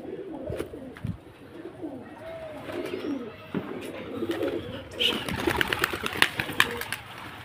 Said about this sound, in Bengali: চলুন আরও পায়রা দেখাবো